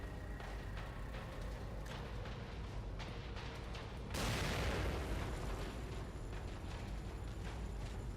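A grenade going off in the horror game The Evil Within: a quiet, tense ambience suddenly gives way to a single broad rumbling blast that lingers as a dull roar for several seconds.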